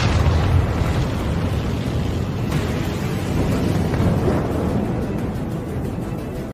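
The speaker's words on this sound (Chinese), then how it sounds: "随着一声爆炸" A car set alight and exploding in a Korean crime drama: a loud, sustained booming roar of broadband rumble that fills the whole stretch without easing, with no voices.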